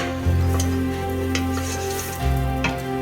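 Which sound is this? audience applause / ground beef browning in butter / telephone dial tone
ground beef browning in butter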